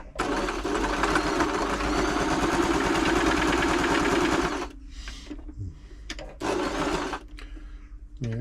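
Brother LS 2125 sewing machine during a service test, stitching in a loud, rapid, rhythmic chatter for about four and a half seconds, then stopping, followed by short bursts of stitching and mechanism clicks between pauses.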